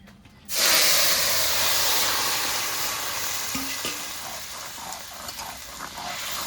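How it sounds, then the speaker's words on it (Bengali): Bay leaves, dried red chillies and whole cumin drop into hot oil in a pan and burst into a loud, steady sizzle that holds for several seconds before easing slightly, with a few soft stirring clicks and no speech. "তেল গরম হয়ে গেছে, এবার সোমবারে দিয়ে দেবো দুটো তেজপাতা, দুটো শুকনো লঙ্কা, কটা গোটা জিরে।"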